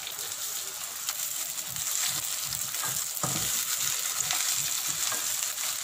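Chopped onion, tomato and capsicum frying in a pan, an even close sizzle with soft rhythmic stirring knocks and one sharper clink midway, no talking.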